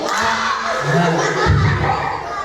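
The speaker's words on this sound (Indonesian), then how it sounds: "kalian tepuk sambil ini dimoncongin mulutnya sambil bilang oh" Group of children in an Indonesian storytelling session shout a rounded "oh" together with a single clap, a loud burst of young voices that swells and trails off over about two seconds.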